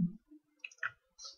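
A computer mouse clicks a few times in a quiet room, small sharp ticks spaced apart and heard up close with nothing else around them.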